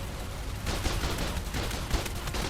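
Turret gunfire in ARK on The Island, a dense continuous rattle of rapid shots, loud and steady throughout with no talking.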